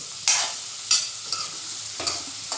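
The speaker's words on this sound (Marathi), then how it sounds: "तर कांदा आता ढवळून घेतला जाईल" Onions and garlic fry in a pan for egg bhurji, a spoon scraping through them in a few distinct stirring strokes over a steady close sizzle.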